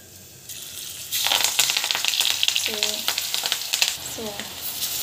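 Drumstick leaf pakoda fries in hot oil: a faint hiss surges into a loud, bubbling sizzle as the batter goes in, with light clinks of a utensil and a faint voice in the background.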